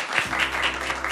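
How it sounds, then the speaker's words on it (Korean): A crowd at a League of Legends esports award ceremony applauds in a dense, continuous wash of clapping, loud and close throughout. "큰 박수로 맞으세요."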